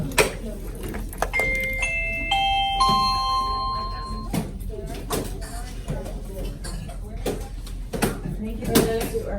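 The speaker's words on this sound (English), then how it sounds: "I go ahead and ring the doorbell." A classroom doorbell chimes a descending run of bright tones, ringing out clearly over background clatter and shuffling of students closing Chromebooks, with a few sharp knocks and bumps around it.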